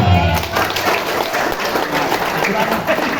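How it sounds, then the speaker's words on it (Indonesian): Applause from an audience at a marketing seminar fills the room as dense, continuous clapping, loud and close, with crowd noise mixed in. "Tepuk tangan."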